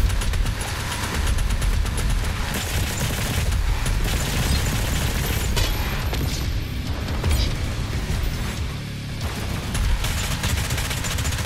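Missile-firing weapon in the video game Doom Eternal, producing dense, continuous rapid blasts and explosive booms that blend into a loud, sustained barrage throughout; no talking.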